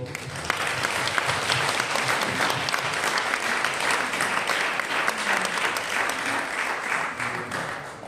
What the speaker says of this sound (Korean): 박수요.